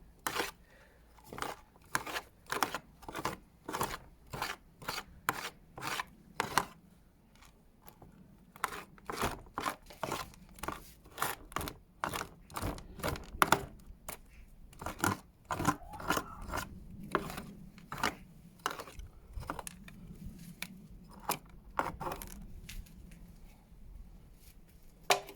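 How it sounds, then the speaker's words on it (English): Root rake combing out the roots of a Chinese elm bonsai during repotting, a quiet series of sharp scratchy rasping strokes in irregular bursts, close and faint with short pauses. "I'm just going to use my root rake just to bring out the roots radially."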